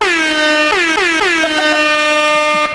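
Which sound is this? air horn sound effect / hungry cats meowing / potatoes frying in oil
air horn sound effect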